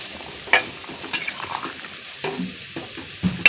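Shrimp curry gravy with elephant foot yam simmers in a pan, giving a steady sizzling bubble broken by occasional scraping stirs close by.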